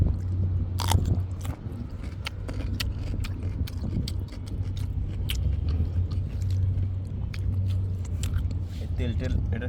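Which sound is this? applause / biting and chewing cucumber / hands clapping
biting and chewing cucumber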